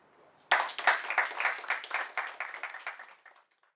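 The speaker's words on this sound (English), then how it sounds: "Give yourselves a round of applause." A round of applause breaks out from an audience at a program event, starting suddenly after near silence, loud at first and then thinning and fading out over a few seconds.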